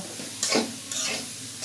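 Tilapia fish frying in oil while being stirred in the pan: a continuous close sizzle broken by two or three brief scraping strokes of the utensil.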